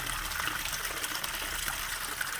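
Water flowing from a garden pond outlet and falling into a small cascade, a steady, close splashing and trickling rush that continues evenly throughout with no talk.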